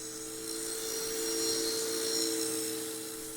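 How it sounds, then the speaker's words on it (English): A steady power saw whines as it cuts a tongue-and-groove wood plank, a continuous high buzzing with a faint hum underneath. "We take 2 passes, one on each side, just cutting off a little over a 1/16 of an inch"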